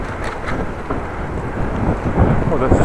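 Strong wind buffeting a microphone outdoors near a roundabout, a continuous loud rumbling roar with gusts that swell toward the end.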